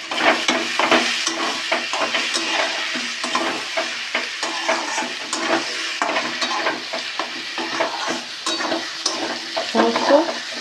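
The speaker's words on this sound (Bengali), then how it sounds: "সমস্ত উপকরণগুলো একসঙ্গে নাড়তে থাকবো" Vegetables and shrimp frying in plenty of oil in a pan while being stirred continuously, giving a steady close sizzle with constant scraping and clatter of the spoon against the pan, with no talking.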